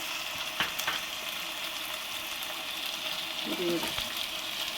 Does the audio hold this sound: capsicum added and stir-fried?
yes